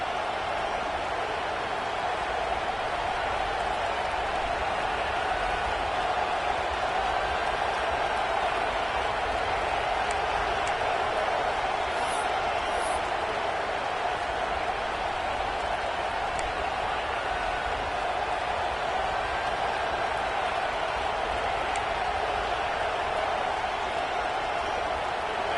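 A college football stadium crowd roars in a steady, unbroken wall of noise for nearly half a minute, distant and dense, with a few faint high whistles or shouts poking out of the din.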